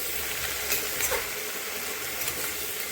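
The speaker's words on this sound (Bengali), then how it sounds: "এখন লবণ হলুদ দিয়ে এটা ভালো করে নেড়ে চেড়ে ঢাকা দিয়ে রেখে দেবো" Kushi, young gourd, fried with salt and turmeric in a pan, giving a steady soft sizzle with faint stirring scrapes, close and even throughout.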